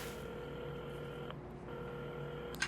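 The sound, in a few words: telephone being dialed, from the video game Assemble With Care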